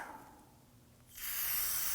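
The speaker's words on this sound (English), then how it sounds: "spray this down with some solvent inside" Solvent sprayed into the rubber boots of a front brake caliper on a 2003-2014 Volvo XC90, a steady hissing burst that starts after a quiet second and holds loud and close to the end.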